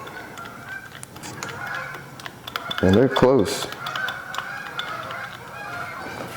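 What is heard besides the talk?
geese honking nearby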